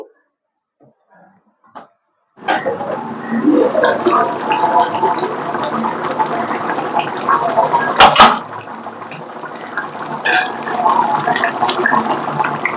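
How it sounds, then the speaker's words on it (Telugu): Godavari-style fish curry with tamarind and spices boils steadily in a pot, giving a dense, continuous bubbling simmer that starts abruptly and holds at an even level, with a brief louder burst partway through. "చక్కగా ఉడుకుతుందండి చేపల కూర."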